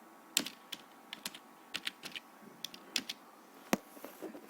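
Computer keyboard keys tapped while entering VHDL code, a sparse irregular run of light close clicks with short pauses between them, heard alone.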